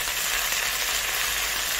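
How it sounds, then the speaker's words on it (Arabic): Vegetables frying in butter give a steady, close sizzle of even crackling hiss with no talk over it. "هلا حنزل الخضرة تبعي على الزبدة"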